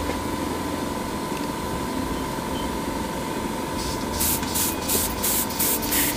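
An airbrush sprays paint onto a Kotobukiya model kit as a steady, close hiss of air with a constant tone, joined by brief louder bursts toward the end.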